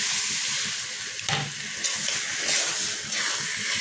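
Splashing hiss as a small amount of water goes into spiced curry frying in a pan, with a sizzle and a few brief bursts, fairly quiet and with no talking.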